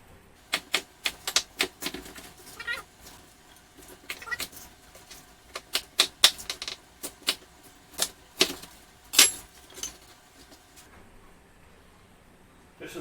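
A knife quarters an unpeeled onion on a cutting board for chicken and sausage gumbo stock, giving a close, irregular run of sharp chops and taps with short pauses between them.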